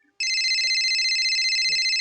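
A phone rings with a continuous electronic trill that starts abruptly and holds steady and loud, with faint voices briefly murmuring underneath.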